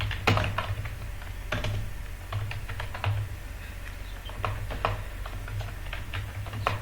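Typing on a computer keyboard while entering exam paper text in MS Word, irregular bursts of close, crisp key clicks with short pauses between words over a faint low hum.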